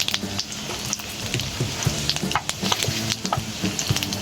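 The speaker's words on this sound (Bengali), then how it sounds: "কিছুটা শুকনো লঙ্কা আমি এতে দিয়ে দেব। কিছুটা 5 ফোড়ন আমি দিয়ে দেব।" Dried red chillies and five-spice seeds crackle and sizzle in hot oil, a steady close frying hiss dotted with sharp pops and spatters throughout, no voices.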